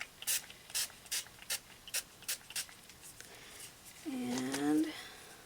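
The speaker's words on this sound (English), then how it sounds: "Now we're going to use the spray too" Short hissing bursts of a spray paint can sprayed through a stencil mask onto a mixed media collage, about eight quick puffs in an uneven rhythm, close by, followed by a person speaking.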